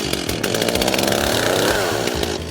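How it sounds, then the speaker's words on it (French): A gas chainsaw engine roars loudly and steadily, revving up and down in pitch for a couple of seconds before cutting back near the end. "On va commencer par partir le scie"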